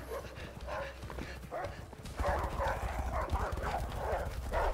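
Running paws of chasing dogs in the video game A Way Out patter in a quick, rhythmic, clip-clop-like beat, close and moderately loud with game ambience underneath.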